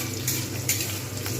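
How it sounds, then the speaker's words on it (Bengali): Onions and spices fry over high heat in a pan for potato curry with green peas, a steady loud sizzle with light stirring scrapes. "আঁচটা একটু জোরে তুলে নিয়ে ভালো করে এইটাকে আমি ভাজবো।"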